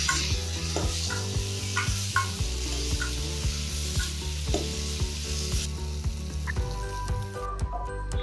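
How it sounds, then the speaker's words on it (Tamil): Green chillies and crushed garlic sizzle steadily in hot oil in a pan for a Tamil garlic and drumstick-leaf kuzhambu, with spoon scrapes and stirring knocks over the constant frying hiss. "அடுத்ததான் 2 பச்சை மிளகாய் சேர்த்துட்டு அதையும் நல்லா வதக்கிக்கோங்க"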